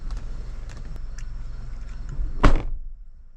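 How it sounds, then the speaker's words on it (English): A car door slams shut once, a single loud thud near the end following a steady idling engine hum inside a rideshare car. "Don't slam the door."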